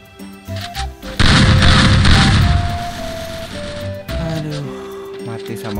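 Gunfire from an XM8 assault rifle in a shooter video game: a loud burst of rapid shots and booms over about three seconds, with game music tones and voices talking around it.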